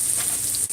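Garlic is dropped into a hot pan and starts a steady, bright sizzle, heard alone and up close.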